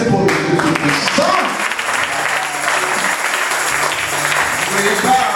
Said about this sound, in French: Applaudissez pour le Dieu tout-puissant.